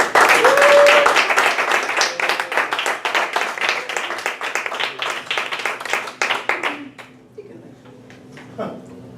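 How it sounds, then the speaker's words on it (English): A Toastmasters club audience gives a warm round of applause welcoming a speaker, loud crowded clapping that gradually thins and fades to a few scattered claps and quiet room noise. "With a warm round of applause, please help me welcome Julie Becker."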